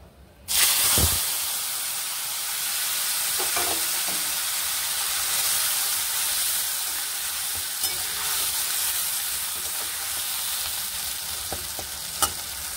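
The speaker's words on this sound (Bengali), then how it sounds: "মশলা করেছি টমেটো বাটা, আদা রসুন বাটা, পেঁয়াজ বাটা, 3টে বাটায় এবারে তেলের উপরে দিয়ে দেবো" Tomato, ginger-garlic and onion pastes hit hot oil with a sudden loud sizzle, then keep frying in a steady crackling hiss with occasional stirring clinks.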